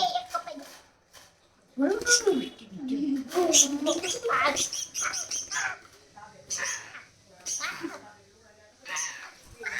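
Shrill parrot squawks and chirps come in bursts, close by, mixed with people talking.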